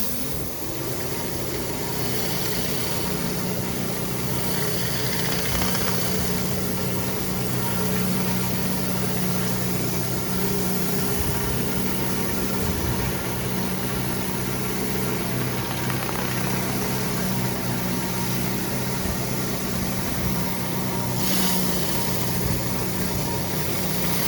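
A pressure washer's engine running steadily on a patio cleaning job, a continuous mid-to-low droning hum with vibration that holds loud and unbroken throughout.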